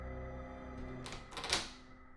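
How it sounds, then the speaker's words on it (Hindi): A door rattles briefly with a sharp latch click, a horror story sound effect set on a cold December night, fairly faint and heard alone over a low steady hum. "दरवाजा एकदम हल्का सा हिला, बस इतना कि उसकी कुंडी में खट की आवाज आई।"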